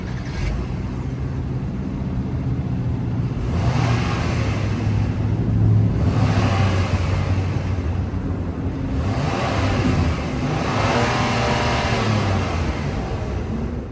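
A 2025 Acura MDX's 3.5-liter V6 starts and idles with a steady rumble, then revs in three swelling pulls that rise and fall back to idle, heard close and alone.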